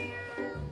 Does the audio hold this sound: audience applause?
no